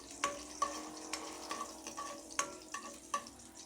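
Ginger frying in hot oil gives a soft, steady sizzle with occasional clinks and scrapes of a utensil, close but fairly quiet.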